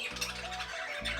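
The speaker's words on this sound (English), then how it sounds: "my birds are chirping too loud and I can't hear my own thoughts right now" Pet budgies chirp and twitter in a quick, busy chorus close by, with a low humming tone underneath and no voices.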